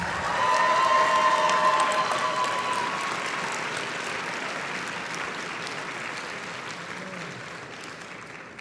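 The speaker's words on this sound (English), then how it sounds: "Please give her another round of applause." An audience at the 2023 USAD Nationals Super Quiz claps for a speech in sustained applause, dense and loud at first and slowly tapering.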